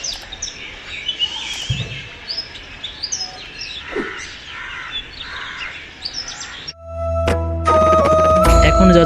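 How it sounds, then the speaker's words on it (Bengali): Birds chirp and twitter in the quiet grounds of Pundarik Dham temple complex near Chittagong, many bright calls overlapping at moderate distance, before a sudden loud tonal ringing noise cuts in near the end. "পাখির এই কিচিরমিচির শব্দই বলে দিচ্ছে"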